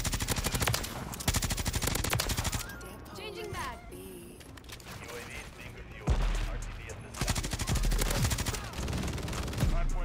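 Rapid bursts of automatic gunfire from an online Modern Warfare 3 match, players shooting down an airborne killstreak with a Bruen MK9 loadout in play; loud sustained rattling volleys broken by a brief lull, with a voice talking over parts of it.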